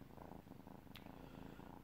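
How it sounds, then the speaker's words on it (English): A content kitten purrs in a soft, steady rhythmic rumble close by, faint but continuous, with no talking. "Listen to him purr."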